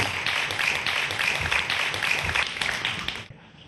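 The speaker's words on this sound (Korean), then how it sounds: "여러분 박수로 강연 청해듣죠?" Audience applause welcoming a lecturer onto the stage at a talk on 3D printers, dense steady clapping from a crowd for about three seconds before cutting off abruptly.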